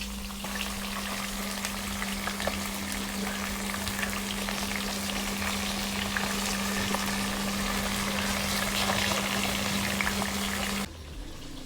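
Tilapia fish frying in a pan, with a steady, dense sizzle and crackle that runs alone throughout and ends abruptly.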